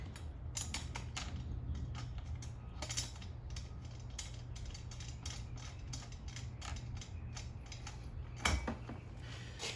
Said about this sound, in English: tighten them up with that 4mm Allen wrench